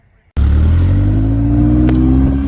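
A Caterham sports car at Silverstone, driven by an instructor, bursts into a loud, close engine roar after a brief quiet moment, holding a steady rasping drone as it pulls away.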